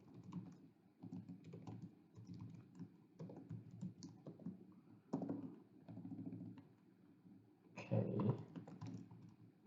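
Code being typed on a computer keyboard in Visual Studio 2019 inside a Windows 10 virtual machine: quiet, close, irregular key taps in quick runs with brief pauses and a louder cluster near the end, with one short spoken word.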